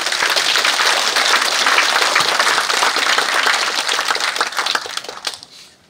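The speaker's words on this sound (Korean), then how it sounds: "센터장님을 큰 박수로 맞아주시기 바랍니다" An audience gives a speaker a full, dense round of applause in a hall, steady clapping that holds for several seconds and then tapers off to silence.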